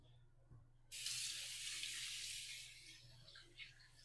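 A bathroom tap turns on after a quiet moment and runs steadily as shaving cream is rinsed off hands, a close splashing flow that softens toward the end.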